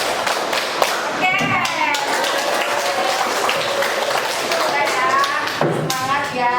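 A group claps continuously and loudly in rhythm as an energiser exercise, while voices talk and call out over the clapping.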